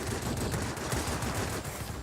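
In World of Warplanes, a Yak-3 fighter fires its guns: a continuous, dense rattle of rapid automatic fire with a loud, steady, unbroken burst for two seconds, no talking.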